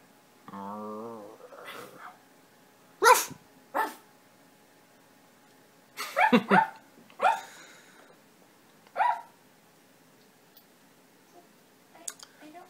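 A few sharp, short barks from a dog nearby, spaced apart with quiet between, after a brief whining tone at the start.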